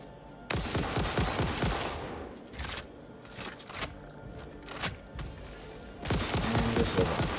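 Rapid bursts of gunfire from a gun in a factory-building video game, loud dense volleys at the start and end with sparser single shots and short bursts in between, no talking.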